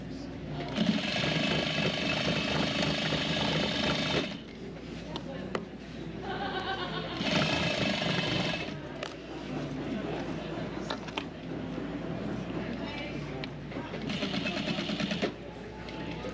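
A sewing machine stitches a damaged vintage quilt being remade into a popover, running from sleeve cuff to bottom hem in long steady motor bursts with brief pauses between them, while someone talks over it.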